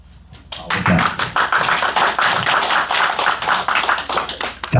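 Audience at a business presentation in Los Angeles applauding, a dense, loud burst of clapping that starts abruptly and continues steadily, close and filling the room.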